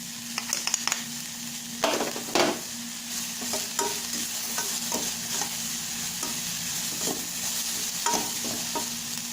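Mixed vegetables for soup, with sugar and Ajinomoto added, sizzle and crackle in a hot pan while a utensil scrapes and stirs in irregular bursts, fairly close, with no talking.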